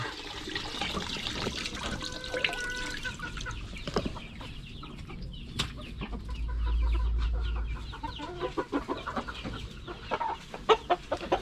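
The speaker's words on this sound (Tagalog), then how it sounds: "Ganda ng lalakang manok oh." Chickens, including a rooster, clucking in short bursts over trickling water, with a low rumble in the middle and a few sharp clicks toward the end.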